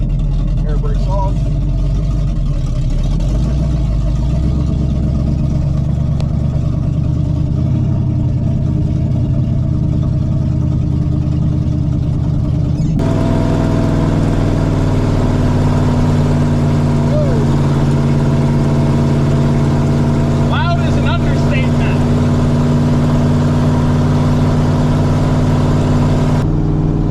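A 1986 GMC 7000 plow truck's engine drones steadily at a low pitch, shifting to a deeper, fuller running note partway through as the driver changes gear, with no talk over it.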